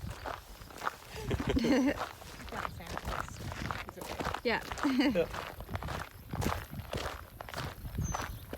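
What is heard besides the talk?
footsteps walking on farm ground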